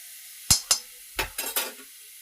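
A spoon scrapes and stirs garam masala through oily gravy in a pan for stuffed okra, with five quick, sharp strokes over a faint sizzle, close and fairly loud.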